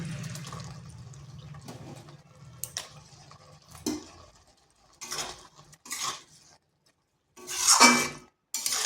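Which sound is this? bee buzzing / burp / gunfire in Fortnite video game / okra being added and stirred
okra being added and stirred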